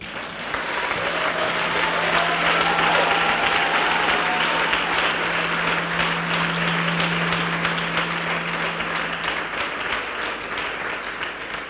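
Sustained applause with scattered cheers and acclamations fills a church congregation's gathering, steady and dense for about ten seconds with no talking over it.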